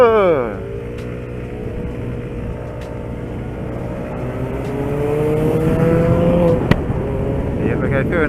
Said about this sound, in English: This calls for drag race against the Mini JCW.